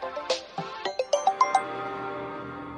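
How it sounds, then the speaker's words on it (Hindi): A mobile phone plays a bright chiming ringtone for an incoming call, a quick run of rising ding notes that then fades out, heard clearly without talk. "बीच बीच में ये फोन आते रहते हैं।"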